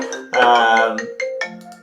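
A mobile phone ringtone sounds nearby and loud, a bright melodic electronic ring with several stepped tones over about two seconds, heard alone without talk.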